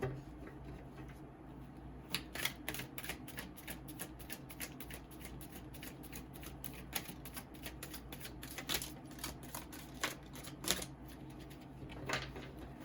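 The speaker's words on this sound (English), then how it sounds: "I tried to show you shuffling these so that when they flop out, you don't think I'm just pulling cards out." A deck of tarot cards is shuffled by hand in a dense run of quick, crisp clicks and flutters. The sound is close but soft, against a quiet room hum, with no speech.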